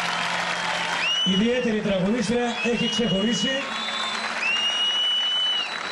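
A studio audience claps for a singer on a Greek TV show, a steady wash of applause running throughout beneath a man's speech.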